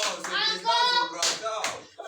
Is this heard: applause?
yes